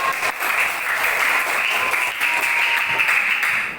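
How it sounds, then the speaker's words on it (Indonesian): A classroom full of students claps steadily for several seconds, a loud, even applause without pauses. "Tepuk tangan"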